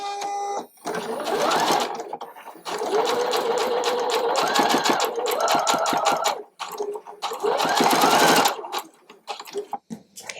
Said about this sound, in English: I'm going to go ahead and sew right on the line that I drew for both of these pieces